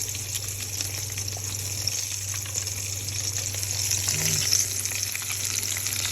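Squirrel pieces frying in hot oil, a steady close sizzle and crackle that holds for several seconds and swells slightly toward the end, with a low hum beneath.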